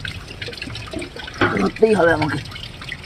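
Hands splash and slosh in water while trying to catch a koi fish, in short bursts of watery churning. A person talks over the splashing.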